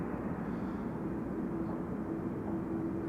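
A Delta Airlines Airbus A330-300 airliner arriving at Amsterdam Schiphol Airport produces a steady, distant jet roar with a low rumble and no talk.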